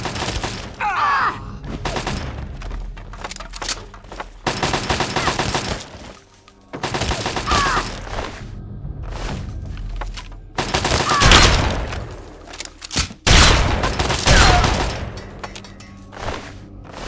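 Repeated bursts of automatic gunfire and single shots in a Fallout 3 firefight, loud and close, broken by short pauses and heavy thumps with no talking.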